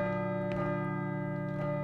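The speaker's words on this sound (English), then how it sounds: "I should let the bell finish ringing first." A bell rings in the video game Call of Cthulhu: Dark Corners of the Earth with a steady, sustained tone that hums and fades slowly, moderately loud, with no talking.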